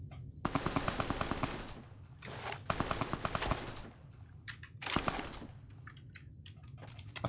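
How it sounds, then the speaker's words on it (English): A .45 auto submachine gun fires in Fallout: New Vegas, cutting loose in three rapid automatic bursts of roughly a second each, loud and close, with short gaps between them and a few scattered single shots toward the end. "I kind of want to use the 45 auto submachine gun"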